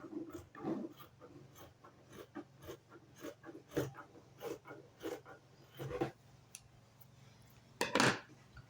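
Scissors snip through blazer fabric in a run of short, crisp, separate cuts at close range, with a louder burst near the end of cutting out a double-breasted jacket's pieces; no one speaks.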